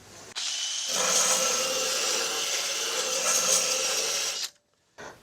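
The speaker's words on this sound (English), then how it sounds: "So I'm going to have to grind that one." An angle grinder works on a metal rocker panel weld during rust repair on a C10 pickup, a loud continuous high whine lasting about four seconds before spinning down, then a brief restart.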